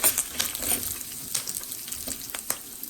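Curry leaves hit hot oil for lemon rice and sizzle in a dense, bright crackle with a few stirring scrapes, close and steady with no voices.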